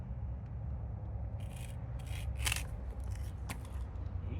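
Sugar cane cuttings trimmed outdoors, giving a few dry, scratchy cutting and rasping strokes over a steady low background hum, with the sharpest snip near the middle of the clip.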